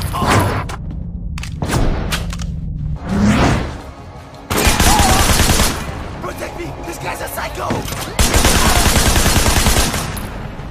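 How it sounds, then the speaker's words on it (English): Gunfire in the open-world action video game Sleeping Dogs, loud bursts of rapid shots and thuds with brief pauses and shifting intensity, mixed with game sound effects and some voice. "Plan your gunfights accordingly, and you can take out hordes of enemy in cinematic style."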